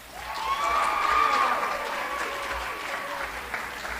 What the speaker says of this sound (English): you guys can all give him a round of applause